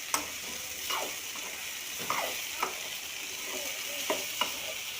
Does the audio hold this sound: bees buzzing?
no